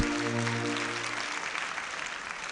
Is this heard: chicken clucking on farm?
no